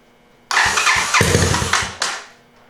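A Honda Fourtrax 200SX quad with a new CDI box cranks and fires, its small engine sputtering and revving unevenly for about a second and a half before dying, then catching once more briefly and fading out.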